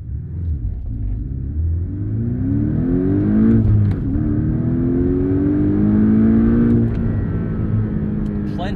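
A 2018 Porsche 718 Cayman GTS engine revs up hard and climbs steadily in pitch as it accelerates, a loud, close roar with a brief dip partway through.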